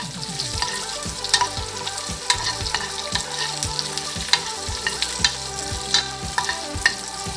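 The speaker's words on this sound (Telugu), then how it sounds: "ఇంకా పోపు వేగిపోయింది." Red chillies, green chillies and curry leaves tempering in hot oil for Andhra-style raw mango rasam, a close, continuous sizzle with sharp crackles and pops and no talk.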